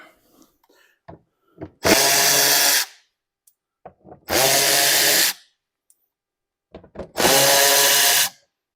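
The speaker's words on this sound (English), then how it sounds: "So we've got some bolts to take out here, and we're going to start in the front." A power tool whirs in three separate bursts of about a second each, removing bolts from a BMW X5 inner wheelhouse, with small clicks and handling noises between runs.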